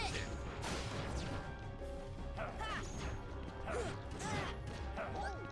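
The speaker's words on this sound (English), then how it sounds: "Just keep smashing heavy." Heavy attacks in the Kingdom Hearts video game land as repeated crashing smashes and whacks over dense battle effects and a music bed, continuous and busy.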